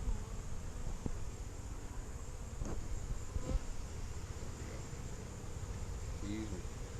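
Honey bees drone in a dense, steady buzz throughout a large beehive cut-out, close and continuous, with a few brief knocks and faint handling noises on top.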